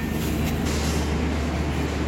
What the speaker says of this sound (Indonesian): Dan kereta ini lanjut ke Malang ya.